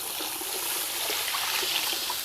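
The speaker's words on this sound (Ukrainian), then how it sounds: "Тепер в казан заливаю воду, вогонь максимальний." Steady trickling and splashing of water poured into a cooking pot for Ukrainian borscht, continuous and close, with no talking.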